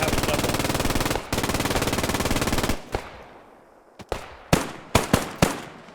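Rapid sustained machine gun fire from a video game rattles loudly for nearly three seconds, broken by a short gap, then gives way to several sharp separate gunshots echoing at a distance.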